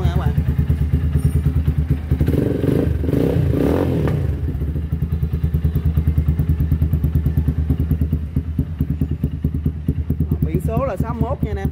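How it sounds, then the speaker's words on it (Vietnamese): A motorcycle with a modified popping aftermarket exhaust idles and revs nearby, a loud rapid thumping putter with rough crackles, and someone talks over it near the end. "chiếc bên đây có độ bô nổ rất là đã luôn nha các bạn"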